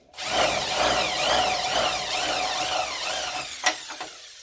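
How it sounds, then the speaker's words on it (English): A step drill bores steadily through the metal wall of a sandblasting cabinet, giving a continuous grinding whir for about three seconds that winds down with a few clunks at the end. "I love step drills."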